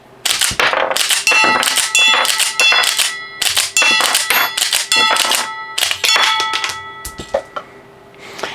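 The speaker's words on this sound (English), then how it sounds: "Now, I'm going to see if I can eject some rounds." Cartridges ejected one after another from a Springfield Armory Prodigy 1911 pistol, a quick series of bright metallic clinks and ringing clangs as the rounds strike a hard surface, close and loud, no speech.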